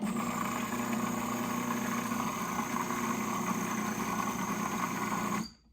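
A blender whirs steadily as it spins homemade mayonnaise with paprika, a loud continuous motor drone that runs evenly for several seconds and then cuts off abruptly.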